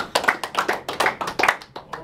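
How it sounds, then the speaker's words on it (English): Newly sworn military recruits applaud together after taking the enlistment oath at a processing station, a burst of dense, fairly close clapping lasting about two seconds with a few cheers mixed in. "please give yourselves a round of applause."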